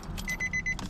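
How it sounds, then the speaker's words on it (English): A car's warning chime sounds as the key is turned after wiring harness work, a quick run of four or five short, clear dings close by. "Okay, we got a ding."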